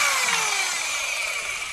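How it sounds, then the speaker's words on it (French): A saw cuts through a wooden board for a large tabletop in a van conversion, giving a loud, continuous, harsh whine whose pitch gradually drops, with no talking. "Ça va super bien couper ce bois."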